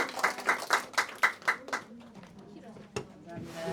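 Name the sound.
audience clapping at end of training session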